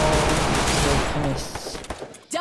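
Rapid bursts of gunfire from the Free Fire battle royale game in a Class Squad match, a dense rattling volley that thins into scattered shots, with a voice talking over it.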